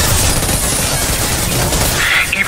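Sustained gunfire from a battle in Mass Effect 2, a dense, continuous clatter of shots at steady loudness with no talk over it.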